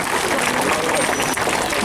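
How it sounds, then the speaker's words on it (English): An audience claps for a performer at a safari park animal show, a steady dense patter of many hands filling the space, with a voice talking over it. "Give her a huge round of applause for it."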